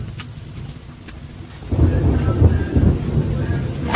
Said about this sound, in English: Hear that thunder outside?